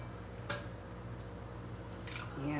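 Green mangoes being washed by hand in a basin of water, giving a brief splash and soft sloshing and dripping close by, fairly quiet, with no talking.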